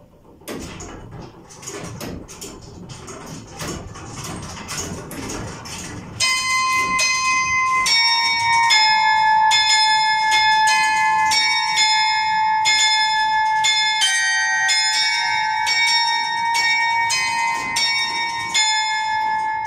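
Carillon bells of Saint-Christophe church in Tourcoing ring out a tune, preceded by mechanical clattering and knocks, then clear ringing bell notes sounding one after another in a melodic sequence, loud and resonant, with no voices.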